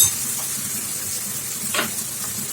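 Onions and tomatoes sauté in a pan for a fish curry, giving a steady soft sizzle and hiss throughout, with one brief louder spit of frying partway through.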